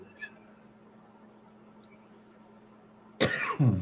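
After near silence with a low hum, a burst of harsh, close coughing erupts at the end, loud and raspy.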